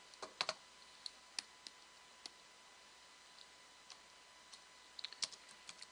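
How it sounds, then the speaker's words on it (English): Sparse keystrokes tap on a computer keyboard in a quiet room, crisp clicks scattered irregularly with a quick cluster at the start and another near the end, faint steady hum beneath. "let's see if I can get my keyboard working here"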